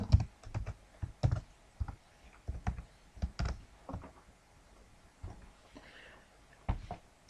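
Computer keyboard typed on while entering web script code, giving quick bursts of clicky keystrokes separated by short pauses, close and fairly quiet with no talk.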